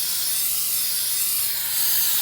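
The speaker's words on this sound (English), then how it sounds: "Look how well this stuff works. Brake cleaner." Brake cleaner sprays from an aerosol can onto the rear drum brake of a 2002 Jeep Liberty in one steady, close hiss that lasts the whole moment, with no talking.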